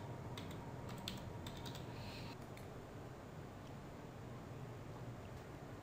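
Typing on a computer keyboard to enter a file name, a quick run of light key clicks in the first couple of seconds, then a few scattered taps over a steady low background hum.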